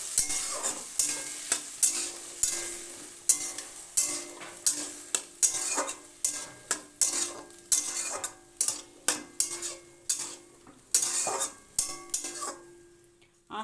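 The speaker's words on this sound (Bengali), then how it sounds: "এবার এতে দিয়ে দেব সিদ্ধ করা মটরশুঁটি। দিয়ে ভালো করে কষিয়ে নেব।" Boiled green peas stir-fried with ginger and green chili, a rhythmic series of close, forceful spatula scrapes and tosses over a continuous sizzle, fading near the end.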